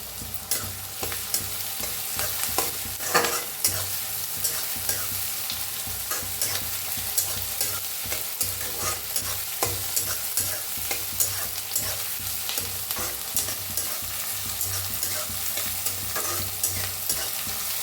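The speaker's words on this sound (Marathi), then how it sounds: "हिरवी मिरची आणि लसूण त्याला बी भाजून घेऊया" Green chillies and garlic roast in a pan with a continuous frying sizzle and regular stirring scrapes, close by and sustained throughout, no voices.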